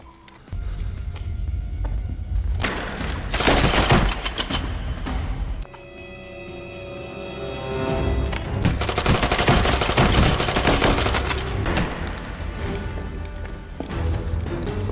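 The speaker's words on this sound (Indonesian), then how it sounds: "Aksi baku tembak terjadi di dalam gedung kosong itu." Gunfire in a film shootout inside an empty building, dense sustained bursts of automatic fire with loud crackling volleys, a brief lull midway and then heavy firing again, up close and filling the scene.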